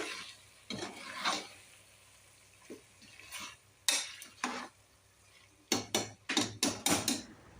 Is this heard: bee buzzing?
no